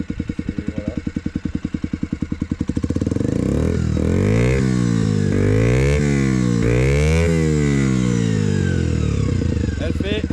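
A stock 50cc Bullit scooter engine sputters at idle, then revs up and down repeatedly in rising and falling whines, loud and close.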